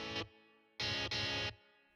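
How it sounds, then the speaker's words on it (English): Plucky MIDI guitar tones played in Logic Pro, distorted and processed: one short chord stab followed by two longer sustained chords with gaps between, heard alone with no talking. "I added some MIDI guitar sounds,"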